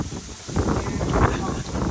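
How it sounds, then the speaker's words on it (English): Wind buffets the microphone outdoors at an opera event in a bamboo garden in Chinatown, with low, rumbling gusts and broadband rush, swelling and easing irregularly, with no clear voice over it. "It's really windy"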